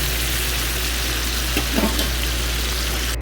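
Marinated chicken half-frying in a pan sizzles with a steady, close, dense hiss, with a brief stir or shift of the pieces in the middle; no voices.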